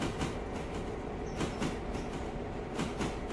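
Freight train rolling on rails in the Railroader simulation game, a steady dense rumble with repeated clickety-clack wheel beats over rail joints, loud and continuous with no talking.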